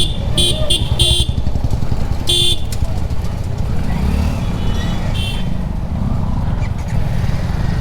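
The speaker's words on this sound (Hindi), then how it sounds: "छह बार हॉर्न मार दिया यार भाई मेरे, देख रहे हो।" In busy market traffic, a motorcycle horn sounds several short toots in quick bursts early on, over loud engine rumble and passing vehicles.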